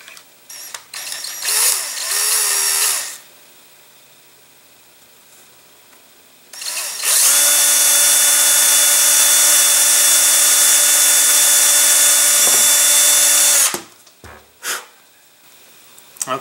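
A power drill bores holes through a rocket nose cone where it is taped against the vent band, with one long steady whining run of about six seconds after shorter bursts, close and loud.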